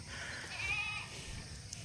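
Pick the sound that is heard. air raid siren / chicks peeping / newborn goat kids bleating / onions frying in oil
newborn goat kids bleating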